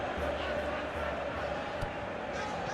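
In an eFootball match of Inter Milan against Atletico Madrid, a stadium crowd keeps up a steady, rumbling roar of cheering and chanting, with a low voice faintly underneath.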